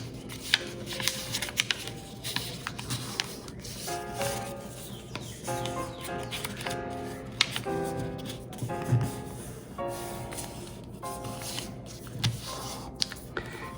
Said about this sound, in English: Then we'll fold our sides in one more time.